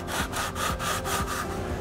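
Hand sanding of a wooden rustic table tray, moving through 60 to 220 grit, with steady rhythmic back-and-forth abrasive strokes close up, about four or five passes.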